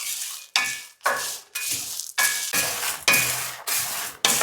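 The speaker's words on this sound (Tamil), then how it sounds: "சவுண்டு பாருங்கள் எப்படி சலசலன்னு கேட்குதுன்ட்டு." Curry leaves, dried chillies and dal roasting in a hot pan give off loud, crackling sizzle in repeated bursts about every half second, close up, with no talk.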